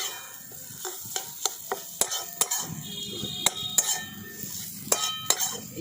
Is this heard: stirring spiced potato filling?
yes